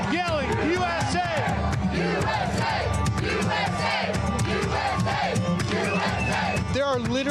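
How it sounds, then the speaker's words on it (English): A large crowd of fans at an Oliver Anthony event shouts a rhythmic USA chant, many voices yelling together in repeated bursts over a constant roar of babble and cheering. "You can hear the crowd yelling, USA!"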